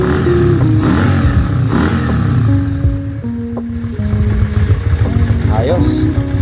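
A Yamaha Virago motorcycle engine, freshly carburetor-tuned with cleaned spark plugs, revs up and settles in stepped pitch swings over a steady idle rumble, close by, with some talk in the background.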